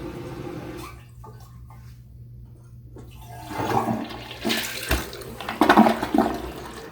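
Toilet flush of a TOTO Drake elongated bowl and tank toilet in cotton white, flushing poorly and leaving residue; a quiet start builds into a loud, close rushing swirl of water with gurgling surges near the end.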